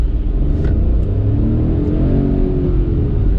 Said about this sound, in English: left foot on the brake, revving the motor, and then here we go